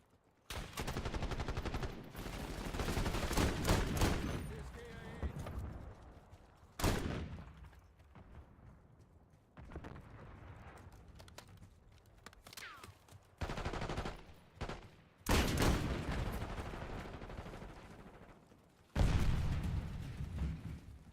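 Video game firefight while a high-value target is under attack, with loud clustered bursts of rapid gunfire and heavy booms separated by quieter gaps.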